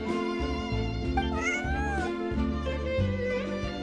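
A cat meows inside Genshin Impact, set over steady in-game background music that runs throughout.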